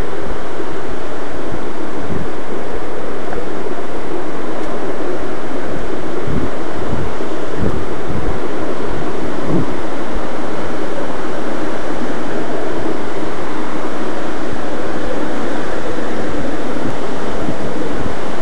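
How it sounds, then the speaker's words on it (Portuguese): A loud, steady roar of rushing water from the Cachoeira do Roncador waterfall fills the whole stretch, broad and constant, with occasional low wind thumps on the microphone. "Nossa, a cachoeira tá maravilhosa."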